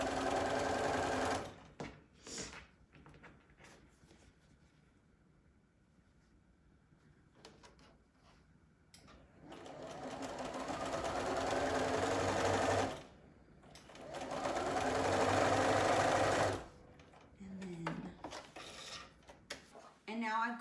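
A sewing machine chain-pieces quilt pieces in bursts of fast, close stitching whir, separated by pauses with soft handling noises and some talk.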